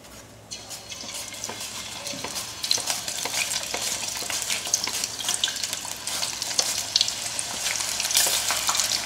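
Potato wafers fry in oil in a kadai with a steady, bright sizzle and bubbling, and occasional stirring scrapes sound through, close and continuous.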